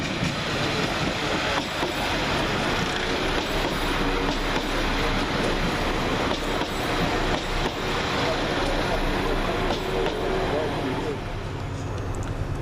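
West Midlands Railway class 172 diesel multiple unit pulling into Stourbridge Junction station, a steady loud rumble and clatter of the train arriving alongside the platform for the whole stretch, with a voice talking over it.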